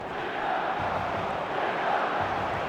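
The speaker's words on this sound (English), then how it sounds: "This crowd doesn't do ordinary, and we should be in for something very special." A large stadium crowd in the eFootball video game roars steadily on match day, a dense, continuous wash of cheering and chanting at full volume throughout.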